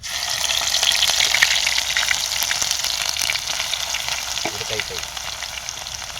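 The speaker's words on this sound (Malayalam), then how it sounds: "ചെറിയ ഉള്ളി കേട്ടോ. ചെറിയ ഉള്ളി ഇടുക." Small onions (shallots) drop into hot coconut oil already holding fenugreek seeds and fry there. The sizzle is loud and steady, easing slightly toward the end.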